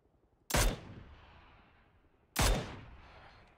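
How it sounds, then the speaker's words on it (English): Two loud, single gunshots ring out in PUBG about two seconds apart. Each has a sharp crack followed by a long, fading echo tail in otherwise quiet surroundings. "Trying to shoot him through the damn cracks"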